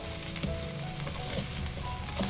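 Poha frying in a pan while being stirred from bottom to top, a steady close sizzle broken by scraping strokes of the spoon, with no talking.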